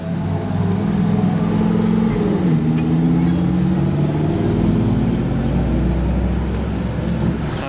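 A Toyota GR Yaris drives past on a street, a loud, close engine drone with a shifting pitch that holds steady throughout.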